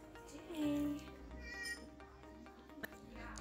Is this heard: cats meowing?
yes